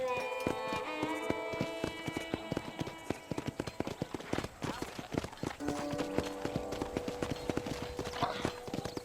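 Rapid, steady clip-clop of horse hooves, close and continuous, over a bright melodic game-style music bed.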